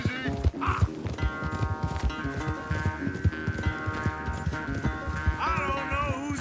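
A horse gallops in Red Dead Redemption 2, rapid rhythmic hoofbeats pounding steadily beneath orchestral music, with a brief whinny and people talking over the ride.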